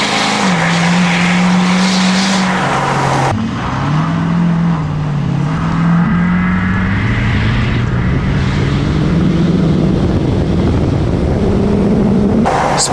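A 6.7L Powerstroke diesel pickup fitted with a cold air intake launches hard with some wheelspin, its loud engine roar rising steadily through the gears for several seconds, close and continuous with no talking.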